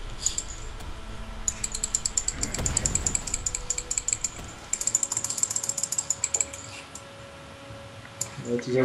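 A cheap, low-quality computer mouse clicks in quick, uneven bursts during a League of Legends gaming session, the sharp clicks close and fairly loud, with a voice briefly talking underneath.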